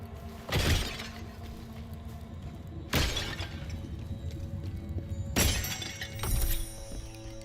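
Jars shattering one after another in a video game: four sharp, loud breaking crashes with brief debris tails, spaced a second or two apart over a quiet background.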